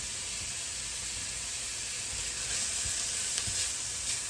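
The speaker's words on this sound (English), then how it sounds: "I'm going to toast those spices. I don't want to burn them." About a teaspoon of spices toasting in a hot pan for homemade spaghetti sauce, giving a constant close, bright hissing sizzle with a few faint clinks partway through.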